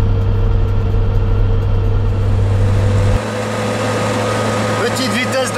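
A car cruises slowly on a paved road in hot Mauritanian countryside, its engine a steady, loud, close rumble with constant road noise; someone talks over it throughout.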